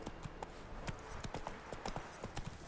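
Hooves of Roach, a horse ridden in The Witcher 3, clop in a quick irregular rhythm of sharp hits over a low outdoor background, with no voices.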